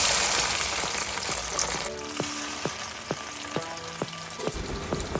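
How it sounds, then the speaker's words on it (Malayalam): Chopped jackfruit frying in hot oil gives a strong, steady sizzle that fills the clip, with a burst of louder crackling as pieces drop in near the two-second mark and a few sharp knocks and scrapes after it. "അരിഞ്ഞു വെച്ചിരിക്കുന്ന ചക്ക നമുക്ക് ഇട്ട് കൊടുക്കാം"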